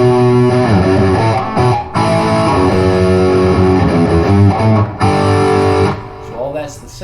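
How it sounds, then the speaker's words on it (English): Distorted electric guitar plays the chorus riff of a song: dense, sustained chords and riffing that run almost without a break, with short gaps near two and five seconds. "Then we go back into that riff, the chorus riff."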